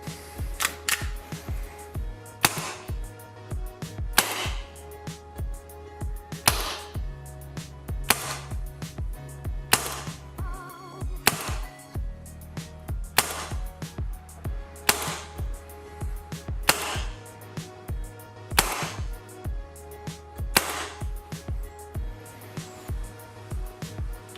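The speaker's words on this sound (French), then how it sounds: "Test de tir du AAP01 de chez Action Army." An Action Army AAP01 gas blowback airsoft pistol fires on Swiss Arms 130 PSI gas with 0.20 g BBs, giving sharp, loud, close snapping shots that come singly and in quick bursts, separated by short pauses.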